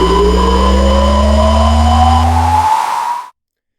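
Synthesized launch effect for an Intamin Impulse LIM roller coaster, built from combined sounds: a loud rising motor-like whine and rumbling drone that climbs in pitch for about three seconds, then cuts off abruptly.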